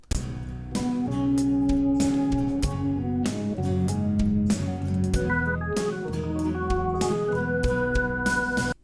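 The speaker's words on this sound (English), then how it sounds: "He had an organ solo in this song" A full band passage led by organ, with a low sustained organ part and a higher flute-like organ line over drums and bass.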